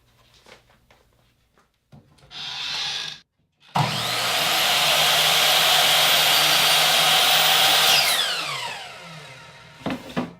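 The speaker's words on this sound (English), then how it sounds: "I've clamped a stop block here on the miter saw table so that I don't have to measure each one of these before I cut them" A miter saw spins up, cuts through a wooden fence picket with a loud, steady whining buzz for about four seconds, then winds down, after a brief earlier burst of the motor.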